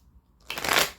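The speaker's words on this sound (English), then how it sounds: "So let's just shuffle these decks real quick here." A deck of tarot cards being shuffled, one quick riffling burst of paper flutter that swells and fades over about half a second, close and clear, with no talking.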